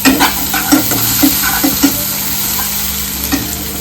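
Melted tomato and onion frying with turmeric in a pan, a loud, close sizzle broken by regular knocking stirs of a spoon, quieter toward the end, no talking.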